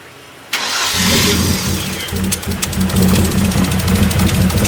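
A built Genesis Coupe engine fires up for the first time after installation, the starter catching abruptly into a loud, close, rumbling idle that holds steady with slight fluctuations, no one speaking.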